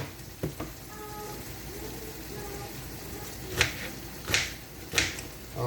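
Onions fry in a pan with a soft, low sizzle in the background, broken by a few sharp crackling pops near the end, with faint voice sounds underneath.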